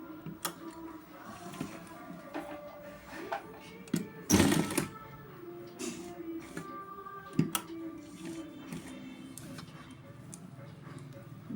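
A sewing machine stitches the folded hem of a lungi in irregular short runs, with sharp clacks and a loud burst partway through, under a person's ongoing speech.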